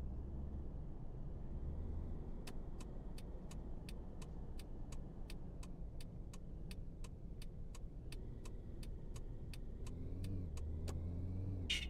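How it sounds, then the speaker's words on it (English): Taxi car in the video game Taxi Life, a steady low engine drone with an evenly spaced series of sharp ticking clicks like an indicator running over it. "Yes, I know I need to turn the car on."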